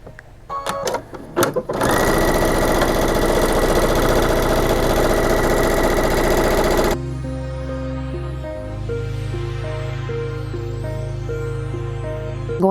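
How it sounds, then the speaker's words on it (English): A sewing machine runs steadily, stitching fabric strips for a three-yard Illusion-pattern quilt; a few clicks start it, then a loud, continuous motor hum shifts pitch about two-thirds of the way through. "So I'm going to start by sewing one side on."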